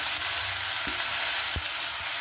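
Grated kohlrabi sizzling in a hot pan, a constant bright frying hiss with a few soft clunks from stirring, close and steady, no talking.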